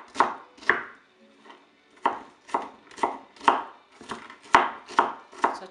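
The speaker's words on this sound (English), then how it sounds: "now I'll be cutting this onion and the olives here" A knife chops through onion and pitted olives on a cutting board for jalapeño poppers, sounding as about a dozen sharp, close knocks in irregular bursts with a short pause near the start.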